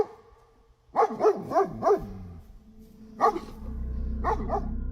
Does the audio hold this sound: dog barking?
yes